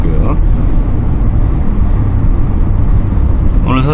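A 2011 Hyundai Veracruz fitted with an aftermarket non-powered turbo, its engine droning loud and steady as the driver lifts off the accelerator, a broad rumbling road-and-motor noise that fills the cabin with no break.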